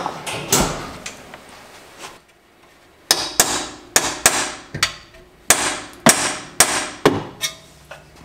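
Hammer blows on a BMW E39 control arm bushing, a series of sharp metallic clangs, first irregular and then a steady run of about ten loud close strikes with short ringing decays.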